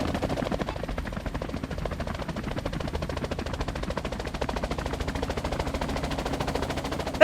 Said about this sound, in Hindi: वो देख हेलीकॉप्टर आया, हेलीकॉप्टर आया।